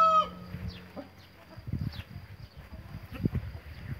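A Brahma rooster clucks and grunts in a series of short, close calls after a brief tonal sound at the start, with farmyard background noise.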